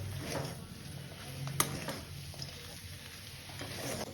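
Spice-coated dosa filling with green peas and store-bought fried peanuts is stirred in a pan over low sizzling, with soft scraping strokes and one sharp clink of the spoon partway through.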